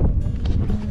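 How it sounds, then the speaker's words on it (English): Wind gusting across a mountainside just below the summit buffets the microphone, giving a brief, continuous low roar with uneven, fluttering pulses and no voices. "Super windy up here"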